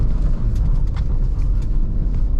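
A 2023 Honda CR-V trying to drift on snow and ice in an intersection: a steady, loud low engine and road rumble, with faint crunchy tire-on-snow scuffs on top and no talking.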